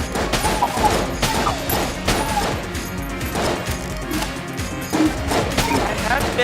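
Rapid bursts of gunfire and crashing impacts from Enter the Gungeon gameplay, dense and repeated throughout, with a voice talking over the shooting.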